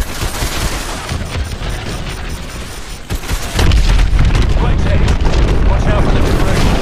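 Missile strikes on a hydroelectric dam in Call of Duty Advanced Warfare, heavy booming explosions under constant roaring combat noise, surging louder midway, with game voices speaking over the din.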